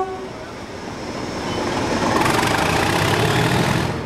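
A diesel locomotive engine is worked hard at full power, a loud, roaring, gritty drone that swells and holds steady, heard close by without any talking.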